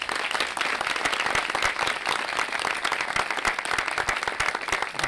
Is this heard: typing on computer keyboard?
no